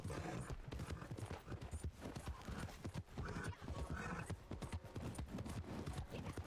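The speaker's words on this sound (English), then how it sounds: "That is a very fine horse you have." Horse hooves clip-clop in a fast, steady rhythm during a ride in the video game Red Dead Redemption 2, loud and continuous with occasional snorts.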